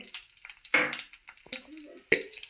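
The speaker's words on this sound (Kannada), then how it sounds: "ನಾವು ತುಪ್ಪ ಹಾಕೋತಾ ಇದ್ದೀವಿ ಸ್ವಲ್ಪ ಕಾದ ನಂತರ ಇದಕ್ಕೆ ಸ್ವಲ್ಪ ಸಾಸಿವೆ ಸ್ವಲ್ಪ ಜೀರಿಗೆ" Mustard seeds and cumin fry in hot ghee, giving a brief, close crackle with scattered sharp pops and a light sizzle.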